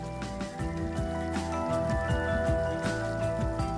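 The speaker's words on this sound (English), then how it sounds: "opens the hot tap once more to confirm that the hot water is available" Water runs from a hot tap after a home water heater installation, giving a steady, soft splashing and dripping patter with a faint constant hum beneath, and no voices.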